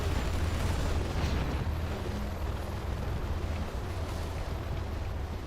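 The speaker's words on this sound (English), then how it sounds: "Particle cannon out from Targaryen." A particle cannon blast in the strategy game C&C Generals Zero Hour rumbles as a sustained, heavy explosive roar with deep low-end booms and no talk over it.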